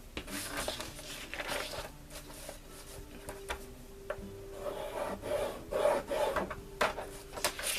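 Craft tool scoring lines across a sheet of card, a dry rasping scrape repeated in short strokes with small clicks and taps, close by and fairly quiet, no talking.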